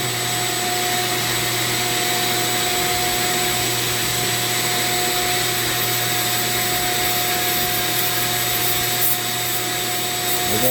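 A Dremel rotary tool spinning near 10,000 RPM sands manzanita wood, giving a steady, close, high-pitched whine with a constant abrasive rasp throughout and no speech.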